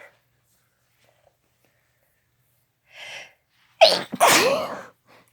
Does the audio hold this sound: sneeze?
yes